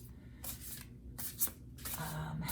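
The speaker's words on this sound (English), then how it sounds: "Shuffling these big ass cards." Large tarot cards being shuffled by hand, in a few quick papery riffling bursts with brief pauses between them, close and fairly soft, with faint low background hum.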